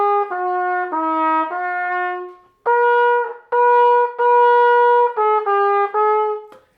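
A band instrument plays a short sustained melody from exercise 151 of a method book, with the opening pickup note mistakenly repeated: about ten clear, steady notes with brief gaps between them, loud and close, with no other sound.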